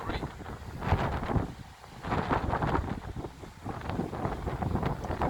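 Wind blowing across a boat and buffeting the microphone, a close, rumbling roar that swells and dips in uneven gusts, with no talk.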